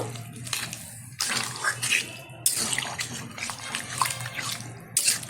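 Water pours into a pan of jackfruit and prawn curry on the stove, a close, splashing rush in several uneven bursts over five seconds.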